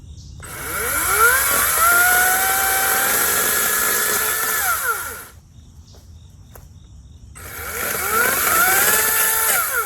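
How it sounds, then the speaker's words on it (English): Two loud bursts of a chainsaw revving and cutting small branches, each several seconds long, with a brief near-idle pause between, close by. "we are ready to chainsaw."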